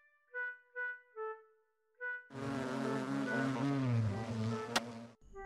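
Bees buzz loudly in the video game Hungry Lamu, a continuous droning swarm that swells and wavers for about three seconds, preceded by a few short tonal game blips.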